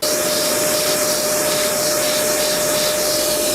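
A Makita 40V cordless vacuum roars steadily at close range while pulling up a foot-long test chain, a constant loud whine with a sustained tonal hum and no talk over it.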